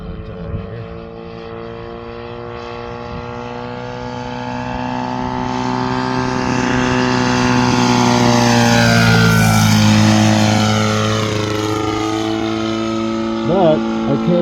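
A DLE 222 gas engine turning a 32-inch scale propeller on an RC F4U Corsair drones steadily in flight, a rich multi-cylinder tone that swells and fades as the plane passes, loud and alone without talk.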